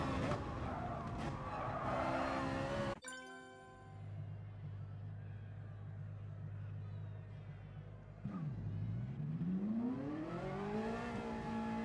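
A Ferrari race car in the GT Sport racing game whines through its gears, with tire squeal as it takes a corner. A sharp shift cuts the sound, a low droning stretch follows, and then a rising rev climbs again. A voice talks faintly in the background.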